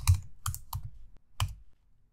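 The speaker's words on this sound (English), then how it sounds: "We type ls" A computer keyboard is tapped a few times to type a short terminal command, with four distinct close keystrokes in a quick, uneven rhythm and nothing else audible.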